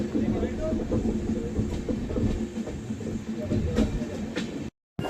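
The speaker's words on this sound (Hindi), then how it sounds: "ये देखिए क्या खूबसूरत कर्व ले रही है भाई अमृत भारत एक्सप्रेस" An Amrit Bharat Express passenger train rounds a curve on its inaugural run from Howrah to Anand Vihar, a steady loud rumble with rhythmic rattling of the coaches, heard from onboard, with a brief dropout near the end.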